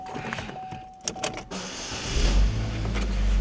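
A Chevrolet Equinox cranks and its engine catches, settling into a steady low idle rumble that grows over the last second and a half, preceded by brief clicks and a faint motor whine inside the cabin.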